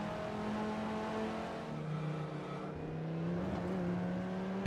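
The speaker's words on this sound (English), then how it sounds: "Some sounds from the gears" Gear whine and engine drone from a VW Beetle RSi, a limited-edition racing model, driven in the Assetto Corsa racing game. A steady, loud tonal hum and whir rises slightly in pitch, with no talking.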